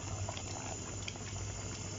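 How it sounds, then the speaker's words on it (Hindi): Chicken karahi cooks over high heat, giving a faint, continuous bubbling sizzle with no breaks over a couple of seconds. "ये हमने इसको तेज़ आग पर भूनना है"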